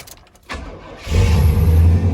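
A car whose engine has just been swapped, with the 6 and 8 cylinder leads switched back, cranks briefly and then catches, settling into a loud, steady run up close with no talking.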